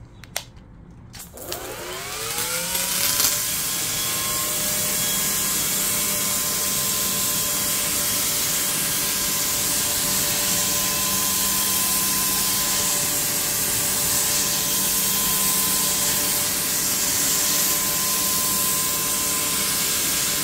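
A pressure washer runs water through an EGO brass foam cannon, a loud continuous hiss that rises quickly after a few seconds and then holds steady throughout.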